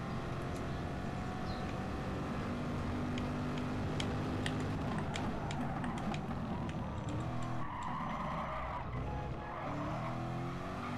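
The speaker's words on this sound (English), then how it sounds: "Power oversteer." Gr.3 race cars in GT Sport on the Austria circuit, skidding under power oversteer: loud continuous engine roar with rasping tire squeal and slides layered over it, steady throughout with a brief dip near the end.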